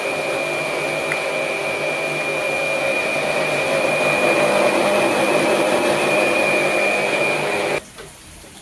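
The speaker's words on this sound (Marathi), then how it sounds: "मिक्सरमध्ये आपला मसाला वाटून झालेला आहे." A kitchen mixer grinder grinds spice masala with a loud, steady motor whine held for several seconds, then cuts off sharply near the end, leaving a quieter background hum.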